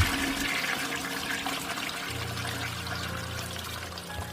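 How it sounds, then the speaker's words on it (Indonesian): A toilet flushing, used as a sound effect in a horror story: a steady rushing gush of water that swells into a heavier, low churning roar partway through, close and fairly loud, with no voices. "kami malah mendengar suara toilet yang sedang disiram"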